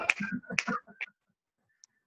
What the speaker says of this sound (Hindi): एक बार चुटकी बजाकर दिखाएंगे